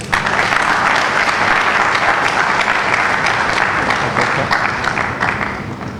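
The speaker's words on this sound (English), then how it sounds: "Another round of applause for His Excellency" A crowd at an Anambra governorship peace accord signing gives loud, continuous applause, many hands clapping in a dense unbroken roar that holds steady for several seconds.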